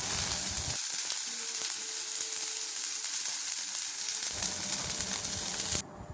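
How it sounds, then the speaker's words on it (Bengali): Boiled moringa drumstick pods fry in mustard oil in a wok with a loud, continuous sizzle and occasional stirring scrapes, close by; the hiss drops away abruptly near the end. "এবারে কড়াইয়ে দিয়ে দিলাম সেদ্ধ করা ডাটাগুলো"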